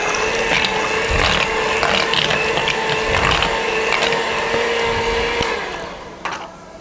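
An electric mixer runs steadily at medium speed while ice water is added to a dough, giving a continuous whirring, slightly ratcheting mechanical drone that stays close and loud before easing off near the end.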